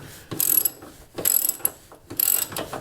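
A ratchet wrench removes half-inch bolts from beneath the dash of a Ford Bronco, giving three close, loud bursts of rapid clicking separated by short pauses, with no talk.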